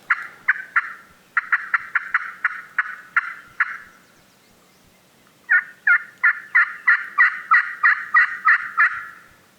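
A wild turkey gobbler in hilly hunting country gobbles loudly in two long runs of rapid, rattling calls, separated by a brief pause, with little else in the background.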